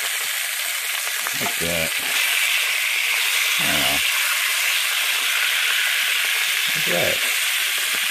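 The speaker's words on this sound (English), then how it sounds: "We're going to let the bacon grease fry up the sausage." Sausage frying on high heat in bacon grease, a steady loud sizzle running throughout, with a few brief spoken words breaking in over it.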